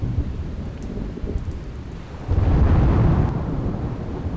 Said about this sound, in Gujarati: पाटणवावमां धोधमार वरसाद।